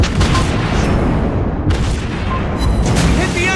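Heavy naval gunfire and shell impacts from a German Tier 8 battleship, the Tirpitz, in World of Warships Blitz, loud rolling booms overlapping continuously, with game voice announcements mixed in.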